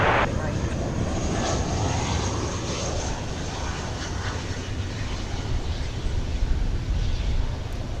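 An airliner taking off at Dallas Fort Worth airport produces a steady, moderately distant engine rumble that runs evenly for the whole stretch.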